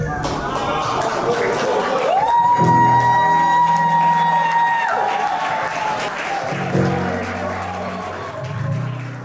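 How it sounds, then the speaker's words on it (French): Wedding guests applaud and cheer through the clip, a dense steady wash of clapping with a sustained tone and brief voices rising over the crowd. "Vos acclamations, s'il vous plaît."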